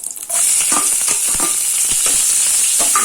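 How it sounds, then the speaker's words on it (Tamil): Chopped onions dropped into hot oil with peanuts, cinnamon, chillies and curry leaves for mint rice, a loud steady sizzle and crackle that starts suddenly and continues with no talk. "வெங்காயம் நறுக்கி வச்சதை போட்டுக்கிறேன்."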